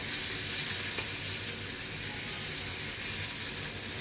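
Salmon patties frying in a pan give off a constant, bright, close sizzle that holds steady throughout, with no talk.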